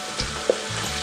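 Garlic sautés in a hot pan for chicken paklay, a steady close sizzle with a brief stir clatter midway, no talk.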